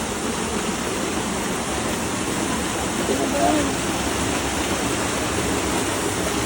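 Steady broadband rush of a clear river flowing strongly after overnight rain in Cebu, continuous and fairly loud, with a brief faint voice midway.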